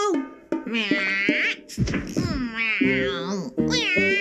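A cartoon cat in a Cantonese-dubbed Doraemon episode meows loudly several times in quick succession, drawn-out and wavering, with a few thumps mixed in.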